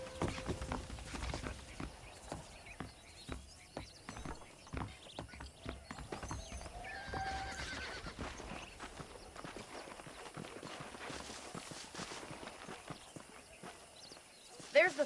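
Steady clip-clop of horse hooves in Red Dead Redemption, a frontier ranch setting, with occasional snorts and a neigh, the footfalls running rhythmically throughout beneath a man's speech.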